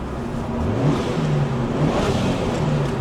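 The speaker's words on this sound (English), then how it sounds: "so it revs up real nice" A turbocharged Mitsubishi Lancer Evolution VI Tommi Makinen Edition engine revs up and settles, a steady mid-pitched drone with rising whine, fairly close and loud.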